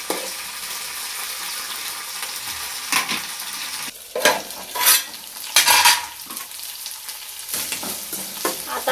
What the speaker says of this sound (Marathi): गवार थोडी हलवून घेऊया।